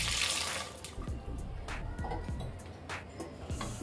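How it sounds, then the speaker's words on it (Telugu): Water poured from a glass into a pressure cooker while making aam ka panna, a steady splashing pour at close range that continues throughout. "ఇప్పుడు ఇందులో ఒక హాఫ్ గ్లాస్ వరకు వాటర్ వేసుకోవాలి."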